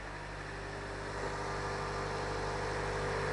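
A Vauxhall Insignia idles with a steady, even drone heard close at the exhaust outlet, continuous for a few seconds with no talk.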